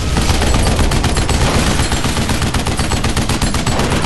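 Rapid, dense automatic gunfire from big guns in the video game Duke Nukem Forever, loud and continuous with no break.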